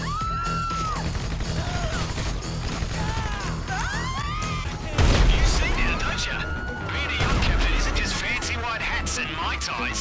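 Gunfire in the online mode of GTA 5 during a fight: heavy, booming shot bursts over a busy game soundscape, with someone talking throughout.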